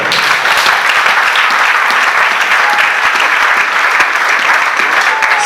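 A church congregation breaks into steady, dense applause that fills the room throughout, loud and sustained with no pauses.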